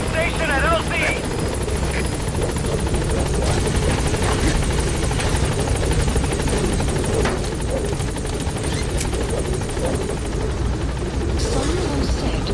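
A Metal Gear Solid V helicopter sets down at a landing zone, its rotor chop and engine whine loud and continuous for over twelve seconds while radio voices and game effects cut in over it.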